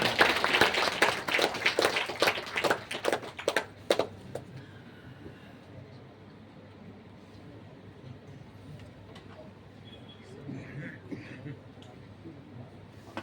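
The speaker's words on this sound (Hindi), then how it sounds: "जोरदार तालियां।" A crowd claps at an event, a burst of scattered, sharp claps for about four seconds that quickly dies away, leaving a quiet room with faint murmuring and soft noises.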